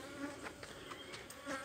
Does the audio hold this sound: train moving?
no